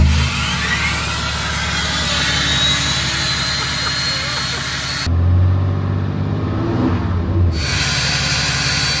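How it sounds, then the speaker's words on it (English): A modified SEMA-build pickup truck engine revs hard, a loud sustained roar that swells into a deeper, heavier burst midway before settling back, up close. "Just listen to how f***ing ridiculous this truck sounds now."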